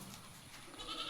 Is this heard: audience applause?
no